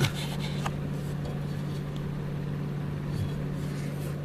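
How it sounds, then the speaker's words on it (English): Refrigerator condenser fan running down by the compressor, a steady close mechanical hum with a low tonal drone and no change in level. "Now you can see the fan's running."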